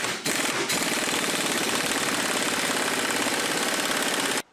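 Rapid, loud metallic hammering on the ball joint collar of a Ford Mustang front suspension during teardown, a dense, steady run of strikes that lasts about four seconds and then stops abruptly.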